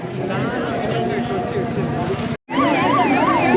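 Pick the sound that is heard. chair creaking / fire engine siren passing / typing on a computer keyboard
fire engine siren passing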